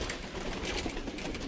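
Birmingham Roller pigeons give soft, repeated cooing close by, set against a broad outdoor hiss.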